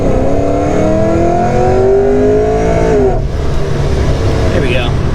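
A car's engine revs and climbs steadily for about three seconds, then drops off, heard from inside the cabin with voices talking over it, on a ride-along after a fender roll.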